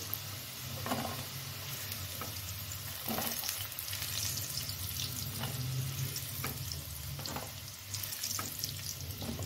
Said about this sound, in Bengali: আলুটা ফ্রাই হয়ে গেছে